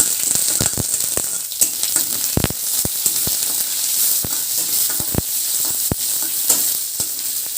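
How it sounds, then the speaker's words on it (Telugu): Garlic, onion, dried chili and curry leaves sizzle in hot oil for a tempering, a loud, close, continuous crackle broken by sharp spattering pops and stirring clicks, with no voices. "వెల్లుల్లిపాయలు, నీరుల్లిపాయలు, ఎండుమిర్చి, కరివేపాకు. దేనికైనా ఇదే పోపు ఉంటుంది."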